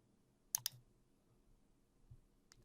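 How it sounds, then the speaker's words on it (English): A computer mouse gives two crisp, closely spaced clicks, followed later by a fainter click, in a very quiet room. "I'm going to click Next."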